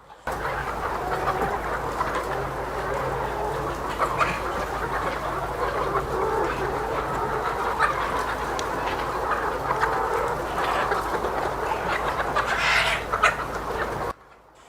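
Chickens on a poultry farm cluck and call steadily throughout, a dense, continuous flock chorus with occasional louder squawks over a constant low hum.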